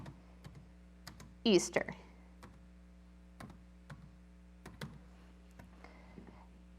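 Keys tapped on a computer keyboard to enter short text, a sparse run of quiet close clicks with a brief spoken word partway through.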